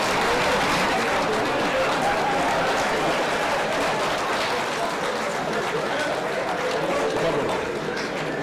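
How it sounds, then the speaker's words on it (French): Deputies of a national assembly applaud together at the close of a parliamentary session opening, a dense, steady wash of clapping filling the chamber for the whole stretch without letting up. "demander aux honorables députés d'applaudir pour le haut représentant."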